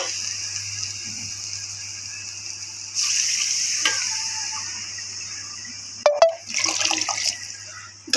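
Water is poured into a frying mutton and potato curry and stirred, giving a sizzling hiss that swells into louder splashy bursts and scraping stirs near the end.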